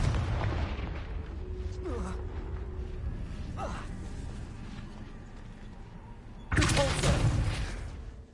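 Confringo spell explosions in Hogwarts Legacy sound as a low, steady rumble with faint pops. Near the end comes one loud, close, broadband blast that lasts about a second. A voice can be heard faintly under the din.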